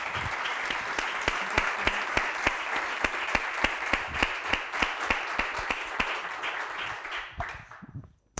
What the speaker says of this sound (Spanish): os pido un aplauso de bienvenida a Remedios Zafra, por favor